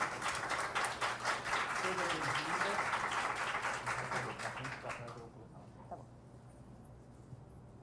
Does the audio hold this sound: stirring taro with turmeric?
no